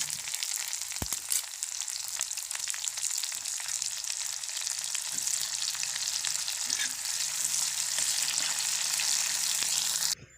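Onions and bay leaves fry in a pan with a steady, close sizzle and crackle that runs unbroken for about ten seconds before stopping abruptly.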